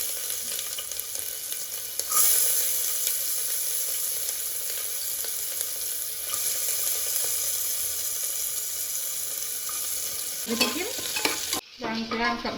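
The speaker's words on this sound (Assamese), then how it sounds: "এতিয়া তেলখিনি গৰম হৈছে মই কেঁচা পিঁয়াজখিনি দি দিছোঁ ৰিফাইনত" Raw onions sizzle in hot refined oil in a pan with a steady close hiss and occasional stirring scrapes, ending with a brief clatter and no talk.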